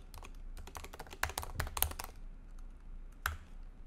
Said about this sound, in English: Now I have to type out